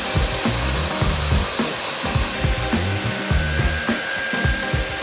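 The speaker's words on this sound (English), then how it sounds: "We'll drill these 3 holes with a new core bit" A new core bit drills holes into a wall, a power tool grinding in loud, rhythmic pulses with repeated low churning strokes and no talk.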